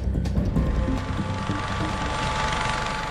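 Sikorsky S-97 Raider high-speed compound helicopter, a steady loud mechanical whir with a rattling, ratchet-like texture and a faint sustained whine, continuous and close throughout.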